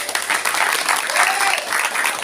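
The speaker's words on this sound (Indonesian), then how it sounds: "Tepuk tangan wahai jamaah." Congregation applauding at an Islamic religious gathering celebrating a wedding, a continuous wash of clapping from many hands with a voice briefly rising under it.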